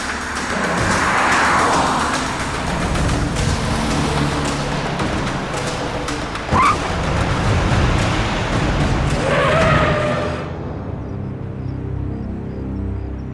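A car drives along a deserted road with a steady engine and road rumble, a brief squeal partway through, then the sound drops away abruptly as it stops.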